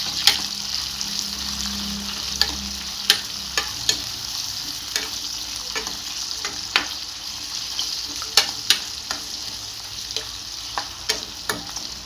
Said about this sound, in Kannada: ಸೊ ಸ್ವಲ್ಪ ಫ್ರೈ ಮಾಡ್ಕೊಳ್ಳೋಣ.